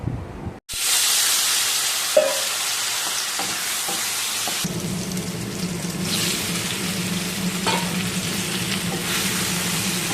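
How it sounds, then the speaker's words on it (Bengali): Mixed vegetables fry together in oil, a loud, steady sizzle with occasional stirring clatter and a deeper bubbling hiss after a few seconds, no talking. "তো সব একসঙ্গে ভাজা শুরু করে দিয়েছি"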